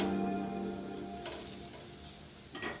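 A paneer paratha brushed with ghee sizzles on a hot griddle, a soft steady frying hiss close by, with a couple of brief scraping or shuffling sounds.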